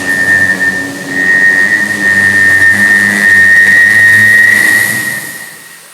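A human voice imitates an airplane flying past, a steady whining drone held for about five seconds and fading at the end, performed alone before an audience at an inauguration event.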